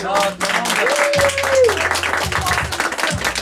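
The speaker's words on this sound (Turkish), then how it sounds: "Alkış" Clapping from a small group at the opening of the Seville Moda Evi boutique, lively applause mixed with chatter and voices close by.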